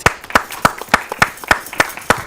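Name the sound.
people clapping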